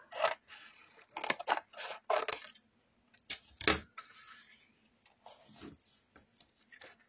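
Scissors snip through paper while a coloring album is being made, several crisp, close cuts coming in short bursts with quiet pauses between them.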